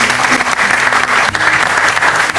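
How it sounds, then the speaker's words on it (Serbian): A TV studio audience applauding loudly and steadily during a weekend entertainment show, dense close clapping throughout. "Veliki aplauz za Mirka."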